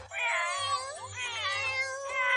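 Two cartoon cats in an animated kids' show meow in long, sliding, high-pitched cries, one call flowing into the next at close range with a low background hum beneath.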